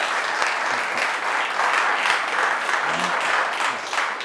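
Steady, dense applause from a gym crowd welcoming a guest speaker, fairly loud and continuous throughout with no individual voices standing out.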